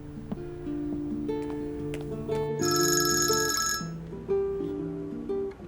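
A telephone rings at home, a bright electronic ringtone with a repeating melodic pattern that swells loudly midway, heard alone without talk.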